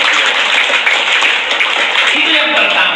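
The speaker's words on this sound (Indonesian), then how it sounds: "Kita berikan tepuk tangan." Audience applause at a Pi Network talk, a steady dense wash of many hands clapping that stays loud and even throughout.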